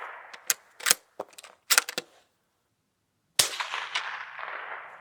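Sharp rifle shots from a .22 Hornet hunting rifle outdoors, several close, loud cracks in quick succession over the first two seconds, then a final loud report with a long fading echo and rumble.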